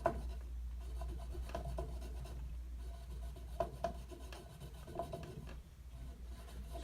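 A bar of buffing compound is rubbed onto a leather-sharpening buffer wheel like a crayon, making faint, steady scratchy rubbing strokes over a low motor hum.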